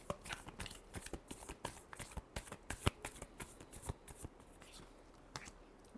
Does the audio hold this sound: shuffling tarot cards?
yes